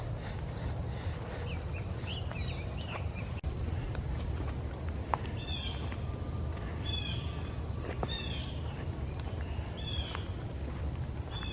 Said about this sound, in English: All I hear are birds.